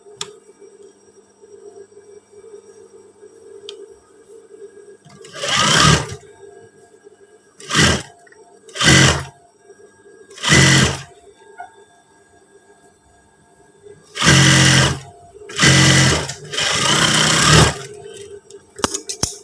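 A sewing machine stitches a curved trouser crotch seam twice in several short bursts of loud mechanical whirring separated by pauses, with a faint background hum between runs.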